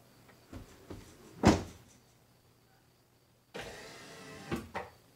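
An AMP Research power running board motor on a 2016 Toyota Tundra whirs briefly, then runs again in a longer stretch that ends in a couple of firmer clunks, heard close with no talk.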